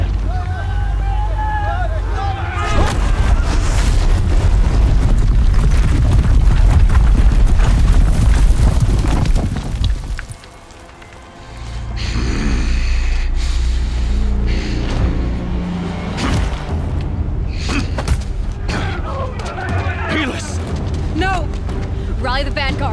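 Heavy booms and explosive blasts from a battle in Horizon Zero Dawn rumble continuously under shouted voices and chaotic noise, briefly dropping away before the barrage resumes.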